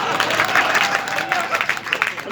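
An audience at a live kavi sammelan poetry show in Bhopal claps, a steady dense wash of applause filling the whole moment at even loudness.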